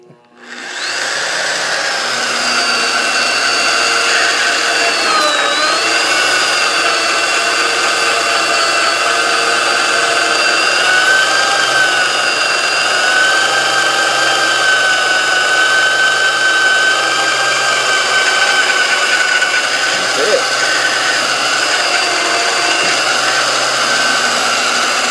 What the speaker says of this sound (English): All you're doing is countersinking it.